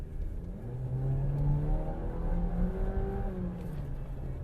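A Jeep Compass Trailhawk accelerates from inside the cabin, its engine note climbing through gears in a smooth rising hum with a low rumble of road noise and no talk.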